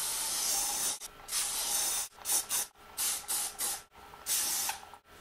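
Hairspray hisses onto combed-out curls for a bellydance stage look, coming in several close, loud bursts of a second or less with brief gaps between them.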